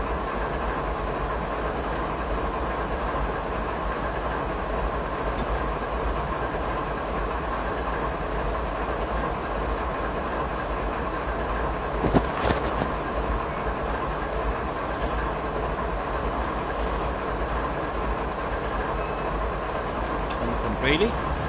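An SD9 diesel locomotive in Train Simulator 2016 runs through Canadian mountain passes with a steady, continuous rumble and rail noise, and one brief sharp clank partway through.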